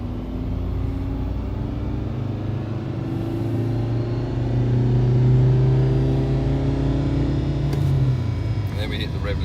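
A car engine revs hard in fifth gear on a dyno, steadily climbing in pitch and droning loudly for several seconds up to the rev limiter before easing off near the end.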